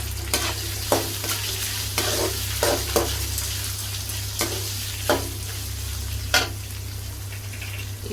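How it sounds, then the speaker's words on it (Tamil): Sliced onions fry in a pan with a constant low sizzle and a hum beneath, broken by periodic scraping stirs of a utensil, close up and with nobody talking. "இப்போ இது கூட நான் 2 பெரிய சைஸ் வெங்காயம் வந்து நீல வாக்கில் கொஞ்சம் கட் பண்ணி வச்சுருக்கேன், அதையும் வந்து இதில் ஆட் பண்ணிக்கலாம்."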